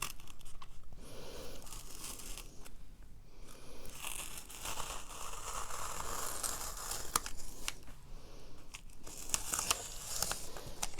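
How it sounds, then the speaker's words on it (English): A book spine is cut through just past the pages, producing close, crisp snipping and crinkly tearing sounds in irregular bursts with short gaps and no speech. "So I'm kind of looking at where I'm cutting it, so it's past the pages."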